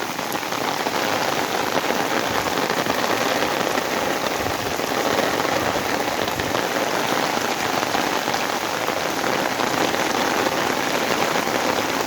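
Heavy rain pours steadily onto a road, a dense, continuous hiss of countless drops striking the wet surface, loud and unbroken throughout with no voices.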